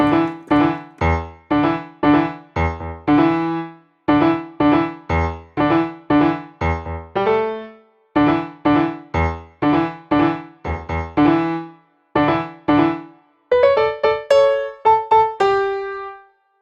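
Piano bridge from a worship song, built on a repeating lick of quick chord stabs in four phrases, ending in brighter high notes that ring out, solo and close with no talking.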